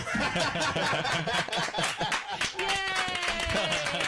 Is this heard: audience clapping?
yes